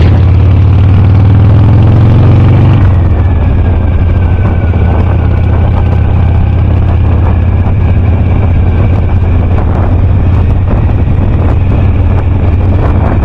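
A 2006 Harley-Davidson Sportster motorcycle engine drones steadily while riding, its low rumble partly masked by strong, constant wind buffeting across the microphone.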